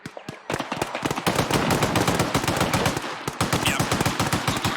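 Sustained automatic gunfire in ArmA 3, a rapid, loud stream of shots with brief pauses between bursts, close and dominant with no talk over it.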